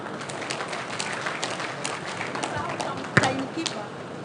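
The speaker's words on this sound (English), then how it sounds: "A round of applause for the moderator and the speakers." An audience at a professional diversity conference applauds the moderator and speakers, a scattered, moderately loud patter of clapping with a sharp knock near the end and some talk mixed in.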